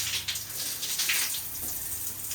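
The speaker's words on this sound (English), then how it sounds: "this little aqua head is now turned on power, and it heats the water literally in the head of the shower" Water runs steadily from an electric shower head that heats the water inside the head, a continuous close hiss and splash lasting a couple of seconds.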